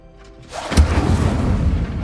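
A fire spell, Incendio, cast in the video game Hogwarts Legacy, bursting with a sharp whoosh-boom and then a sustained roaring flame that holds steady to the end, near and fairly loud.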